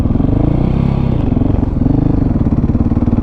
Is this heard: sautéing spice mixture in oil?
no